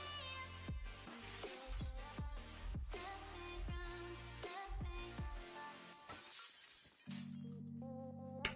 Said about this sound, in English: Don't break your glass or don't break your window, guys.